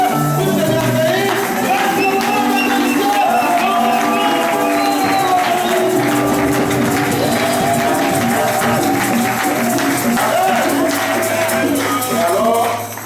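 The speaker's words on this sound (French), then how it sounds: "avec les acclamations, avec les cris de joie, saluer l'homme de Dieu debout" A church congregation at a gathering for Pastor Israël Luadia in Paris cheers and acclaims loudly, with sustained crowd shouting, applause and joyful cries filling the room without pause until a brief fade at the end.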